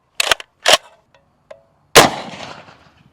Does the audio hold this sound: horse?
no